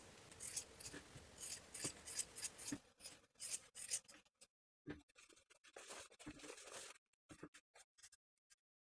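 Sharp scissors snip through fabric seam allowances and pointed corners of a blouse collar piece, a quick run of close, crisp cuts followed by sparser separate snips with short quiet gaps between them.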